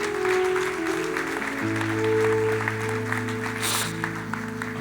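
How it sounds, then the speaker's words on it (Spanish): Church congregation applauding Christ at a pastor's sermon, a sustained wash of clapping lasting the whole stretch, over a steady organ or keyboard chord and faint background voices. "Denle un aplauso grande a Cristo."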